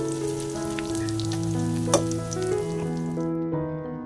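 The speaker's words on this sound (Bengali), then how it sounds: "তো কাঁচামরিচ, রসুন আর পেঁয়াজ ভালো করে ভেজে নিচ্ছি।" Green chillies, garlic and onion fry in a pan with a steady, close sizzle, with background music tones running underneath and no speech.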